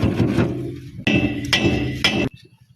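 A metal hammer taps to loosen a part on a power tiller's plough shaft during an oil seal change: four sharp, ringing close strikes spaced about half a second apart, then a faint fading ring.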